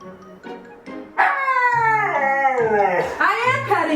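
A dog whines and howls in drawn-out, rising and falling cries while being petted, close and loud across several seconds, with a few short yips at the start.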